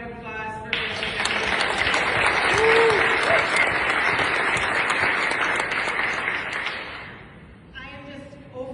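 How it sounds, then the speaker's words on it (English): Sustained, loud round of applause from an audience at a public event welcoming a state representative, dense clapping filling the room before fading out near the end. "Give a round of applause for Representative"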